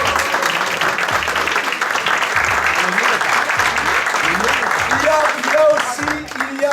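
Awards ceremony audience at a restaurant gala applauding loudly and continuously, many hands clapping close by, with voices talking over the clapping throughout.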